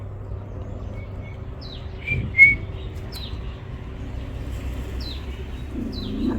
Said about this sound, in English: Listen to that bird that goes.